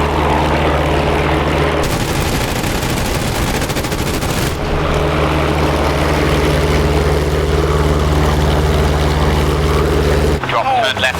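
P-47 aircraft in a DCS combat flight game: a loud, constant propeller engine drone with bursts of rapid machine-gun fire, and voices talking over it.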